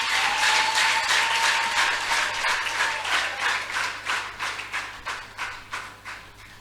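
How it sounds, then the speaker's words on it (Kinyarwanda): A congregation at a worship service claps hands in a fast, steady rhythm, loud at first and then slowly fading as the clapping thins out. "Komera Yesu amashyi muri kumwe nanjye."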